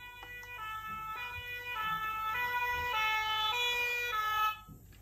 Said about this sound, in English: Is it a fire engine?